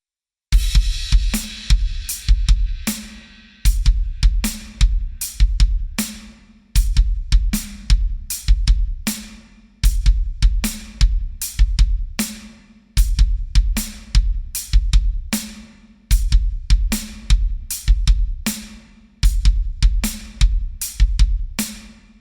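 Drum kit playing a slow quarter-note groove with extra bass drum hits, including doubled kicks around beat one, loud and close with sharp cymbal and snare strikes repeating in steady bars, no talking.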